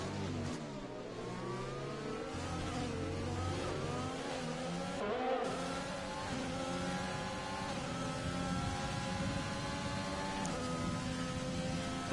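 A long train of race cars in a sim racing league event at the Austria circuit drones past with layered engine notes, revs rising and falling through gear changes and a tyre squeal, steady and continuous throughout.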